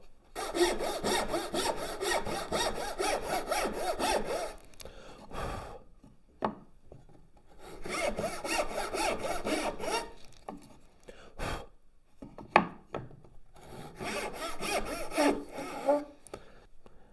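A dovetail saw cuts through wood in three bursts of fast, rhythmic back-and-forth strokes, separated by short pauses and a few light knocks and handling sounds.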